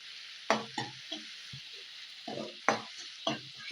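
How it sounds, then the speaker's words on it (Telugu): Green chillies, ginger and garlic fried in a pan, heard as a soft sizzle beneath several sharp spatula strikes and scrapes spaced irregularly, close and moderately loud. "దీన్ని కూడా వేసుకొని ఫ్రై అయితే చేసుకున్నాను"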